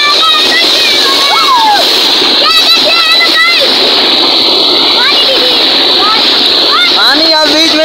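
Cold water splashes and rushes steadily and loudly as people bathe outdoors in summer heat, with voices and shrill calls mixed into the continuous wash throughout.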